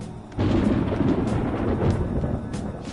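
Thunder rumbling ahead of rain in the video game Persona 5 Royal, a deep rolling roar that swells in after a short lull and keeps churning loudly to the end, with no speech over it.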